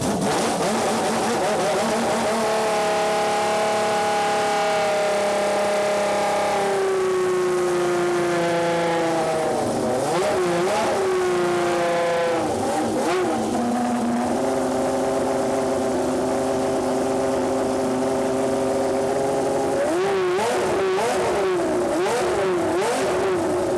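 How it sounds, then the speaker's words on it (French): A classic race car at Le Mans Classic fired up on a booster and revved, a loud close engine note climbing and falling in repeated sweeps with sharp throttle blips, no talk. "tu mets un coup de démarreur"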